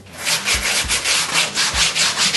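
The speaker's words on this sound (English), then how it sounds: "contour the rest of it with the sanding block and erase the line, smooth it out" Rhythmic back-and-forth strokes of a sanding block on an RC model plane, a gritty rasping rub repeated several times at an even pace, close and clear.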